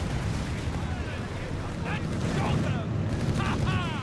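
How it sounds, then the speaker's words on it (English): Continuous artillery fire and explosions rumble in the video game Company of Heroes 3, a dense loud low roar of battle with booming impacts, while someone talks over it. "Got artillery fire."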